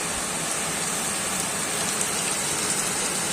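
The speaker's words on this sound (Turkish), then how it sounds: "Çünkü yağmur çok şiddetli yağıyor." Heavy rain pours steadily outside a village house during a stormy day, a dense, continuous hiss and patter close by with no talk over it.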